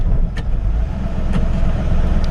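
A 1966 Ford F100 pickup's engine runs steadily at idle, giving a low, even rumble that stays close and constant with no talking.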